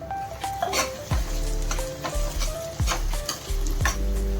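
Capsicum frying in a pan while being stirred: repeated metallic scrapes and clinks of a utensil against the pan over a continuous sizzle, close and fairly loud.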